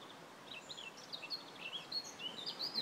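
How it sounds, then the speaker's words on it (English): Faint, high whistling bird calls come from a tree nearby. Short chirps and slurred notes repeat irregularly over a soft outdoor background hiss. "there's definitely a bird very close by, whistling away in a tree."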